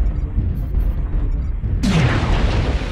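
Enemy fire in MechWarrior Online: low rumbling weapon thumps and mech noise, then a loud burst of heavy impact hitting close by near the end, sharp and broadband.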